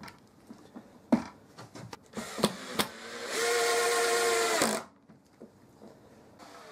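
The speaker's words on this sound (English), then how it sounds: "I added some more drywall screws to the base just to hold it in place better." Near and fairly loud, a power drill whirs steadily for about a second and a half, driving drywall screws into the base of a wooden push block for a jointer, framed by sharp knocks and clatter.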